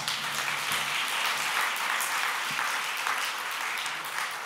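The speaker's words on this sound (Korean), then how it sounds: "오늘 다시 한번 우리 하나님께 영광의 박수를 한번 다시 한번 하십시다" A church congregation applauds during a pastor's installation thanksgiving service, a steady dense wash of many hands clapping together at even loudness throughout.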